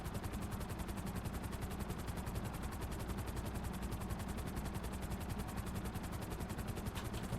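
Rapid, steady automatic gunfire with incendiary rounds in GTA 5 Online during the Cayo Perico heist, a continuous rhythmic rattle over a constant droning background, loud and unbroken.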